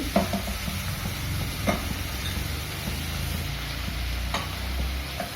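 Dill upma cooking in a pan, with steady stirring and soft sizzling that runs throughout, a few sharper scrapes of the spoon breaking through the continuous crackle.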